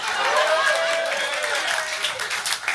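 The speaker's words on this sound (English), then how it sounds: "Round of applause" A crowd at an all-ages clean comedy and magic show breaks into sustained applause, dense and steady at first and gradually thinning as the clapping tapers off.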